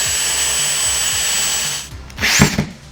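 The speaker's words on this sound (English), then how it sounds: "So I'm gonna grab a drill and we're going to pre-drill a hole." A power drill whirs steadily while pre-drilling a hole into a wall stud, then stops, followed by a brief burst of louder mechanical noise near the end.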